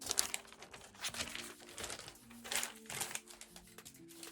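Soft, crackly crinkling of thin tissue paper being handled close by, irregular rustles and crisp little crackles with a faint background hum.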